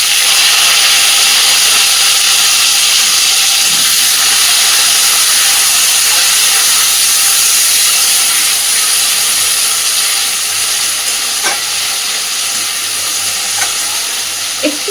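Chopped onion, slit green chilies and chopped tomato frying in hot oil in a pan for a quick egg curry. A steady, loud sizzle and hiss runs throughout, with occasional stirring scrapes and no talking.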